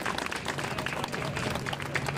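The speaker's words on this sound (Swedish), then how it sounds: "Applåder till er själva." Crowd applause at an outdoor political march rally, a steady patter of many hands clapping at moderate volume with some voices mixed in, heard from a slight distance.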